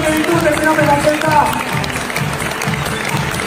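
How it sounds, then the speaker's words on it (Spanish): Applause from a gala audience at a magic convention, steady crowd clapping throughout with voices mixed in and a loud, busy texture. "¡Aplauso fuerte para este artista, por favor!"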